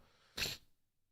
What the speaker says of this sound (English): First sneeze ever on podcast.